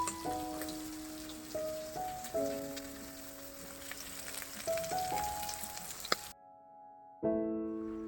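Potatoes frying in hot oil give a steady, soft sizzling hiss throughout, under a quiet stepped melody, with a short drop near the end.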